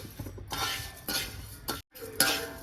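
Urad dal roasting in a pan while being stirred quickly, a series of gritty scraping sweeps with light clinks of the spoon against the pan, separated by brief pauses, close and fairly quiet.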